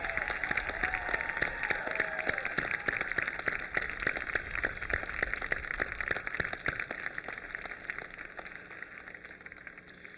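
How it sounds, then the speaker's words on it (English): Steady, dense applause from a large audience at the Upper Moreland High School commencement for the class of 2023, in a large hall, continuous for about ten seconds and easing slightly toward the end. "Let's give them a round of applause."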